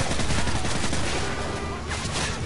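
Dense gunfire from the video game Call of Duty Modern Warfare 3, a loud continuous burst of overlapping shots filling the whole moment without any talking.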